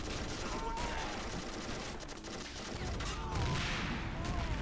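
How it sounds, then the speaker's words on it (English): Machine gun fire in the strategy game Men of War: Assault Squad 2 with the Robz mod, a dense stream of rattling shots mixed with battle noise that dips briefly then returns loud, with a voice partly audible. "Did a machine gun just hull damage my thing?"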